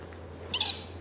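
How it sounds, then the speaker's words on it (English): A noisy bird passes overhead at night, giving a single harsh squawking call of about half a second that stands out clearly against a low steady hum. "There's a noisy bird just come over."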